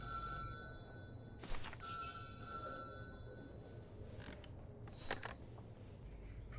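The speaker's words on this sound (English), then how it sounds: "I love that it's a cordless phone." A cordless telephone ringing in Syberia: The World Before, with repeated bright electronic ring bursts separated by pauses, sounding close over a low steady background hum and a few faint creaks.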